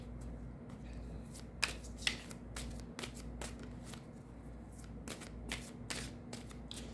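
Tarot cards being shuffled by hand, a run of soft riffling bursts and sharp flicks over a steady low hum, close and fairly quiet, with no talking.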